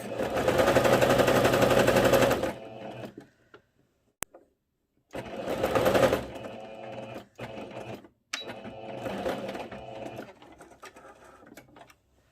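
A sewing machine stitches a tablecloth seam in loud, rapid mechanical bursts, running steadily for a couple of seconds, pausing, then starting again in shorter runs separated by brief silences.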